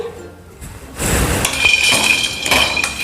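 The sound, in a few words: roasted gram dal (chana dal) being added to a pan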